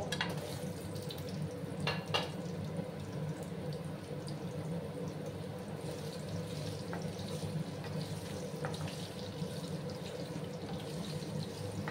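Sliced potatoes frying in hot oil in a pan over a low gas flame, a steady close crackling sizzle that runs throughout with a few sharper pops near the start.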